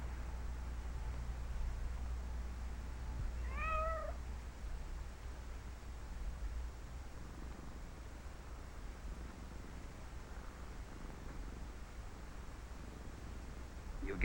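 A domestic cat gives a single short meow, faint against a low, steady background hum, followed by quiet room tone.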